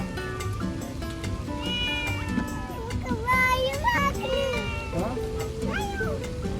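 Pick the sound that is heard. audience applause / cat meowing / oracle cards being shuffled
cat meowing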